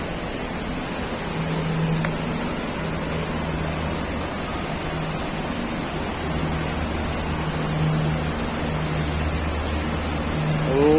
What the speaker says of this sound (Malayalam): ഭയങ്കര ശക്തമായ വെള്ളം ഒഴുകുന്നത്.